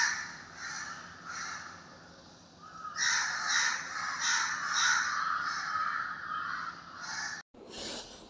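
Crows caw outside an open window, repeated harsh calls in uneven bursts, some faint and distant, then a louder close cluster, with a sharp break near the end.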